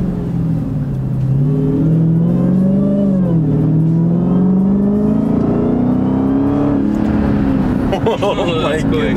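A Dodge Hellcat on stock tires launching hard from a stop, its engine roaring loud and close as the revs climb steadily and the tires spin, with a rising whine near the end.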